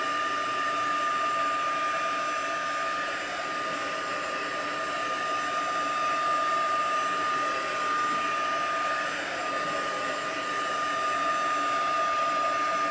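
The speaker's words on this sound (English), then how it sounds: "Having a blow dryer on hand is super helpful" Hair dryer blasting heat onto a paper craft project, a loud, steady whirring blow with a constant motor whine that runs unbroken for about thirteen seconds with no talking.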